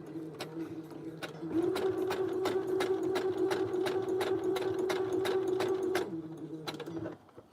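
A sewing machine stitches up close, its motor humming steadily and rising in pitch as it speeds up, with rapid, regular needle clicks throughout before it slows and stops.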